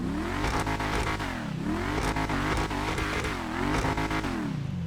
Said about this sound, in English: Rev test sound.